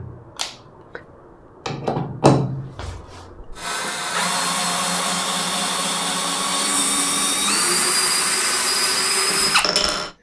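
A compact impact drill with a metal chuck runs steadily for about six seconds loosening a bolt, loud and close, after a few short knocks and handling clicks at the start.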